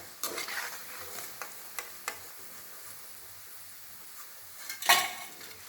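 Cabbage pakoda frying in oil, a soft steady sizzle under occasional clinks and scrapes of a utensil stirring the pan, with one louder scrape near the end.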